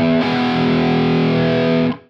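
Electric guitar on the bridge pickup plays a clean tone through a 30-year-old Rocktek CHR-01 chorus pedal switched on with all settings at zero; one sustained chord rings loud and close, then cuts off.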